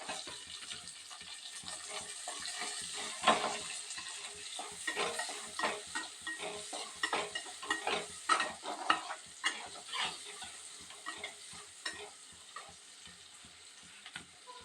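Onions fry in hot oil in a pan for an onion coriander chutney, with a steady sizzle and repeated close, rhythmic scraping stirs throughout.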